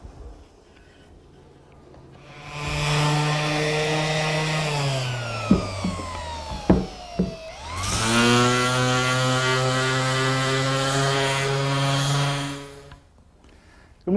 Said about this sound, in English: before I do any glue up, I'm going to sand and sand and sand again